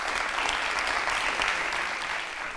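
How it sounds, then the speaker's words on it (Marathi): An audience at a Marathi panel event on society breaks into loud, dense applause that holds steady throughout. "यांच्यासाठी एकदा जोरदार टाळ्यांचा गजर करूया"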